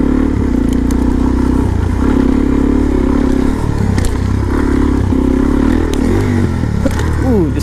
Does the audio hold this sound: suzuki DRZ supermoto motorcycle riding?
yes